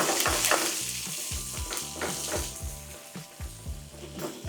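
Spices frying in a pan for a village-style chicken roti pachadi, a steady bright sizzle with repeated rhythmic scraping strokes of a spoon against the pan, close and loud throughout.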